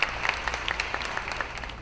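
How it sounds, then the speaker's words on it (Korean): A concert audience applauds at a 9/11 homecoming peace concert in a New York Korean church, a steady patter of many hands with a few sharper claps standing out nearby. "관객들은 박수로 화답합니다."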